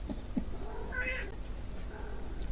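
A large white cat calls from outside, giving a short meow-like cry in the middle, moderately close, over constant low background noise.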